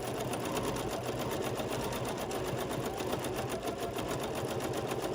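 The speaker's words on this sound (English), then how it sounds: "now you can see the machine is moving a little bit faster because it's making smaller stitches" A sewing machine quilts small, tight stitches across a quilt top, its needle hammering in a fast, even, continuous rhythm with a steady motor hum, loud and close, with no voices.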